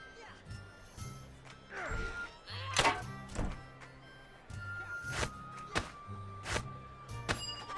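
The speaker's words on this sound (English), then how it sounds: "Fetch a crossbow from the barrel and take a few shots at the practice target." Crossbow bolts thunk into a practice target in Neverwinter Nights 2, a string of sharp wooden impacts at irregular intervals over quiet background tones, moderately near and fairly soft.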